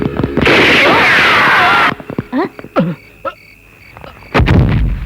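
Gunfire in a comedy scene from the Tamil movie Rasigan: a long loud blast, then shouting and wailing voices, then another sharp shot near the end.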